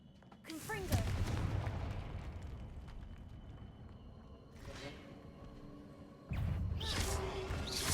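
Confringo spell explosions in Hogwarts Legacy, rolling booms and crackling bursts that swell and fade, with a fresh blast near the end, mid-loud amid game effects, while someone speaks over the action.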